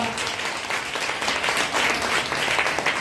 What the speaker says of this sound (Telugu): గట్టిగా గట్టిగా చప్పట్లు కొడతారా?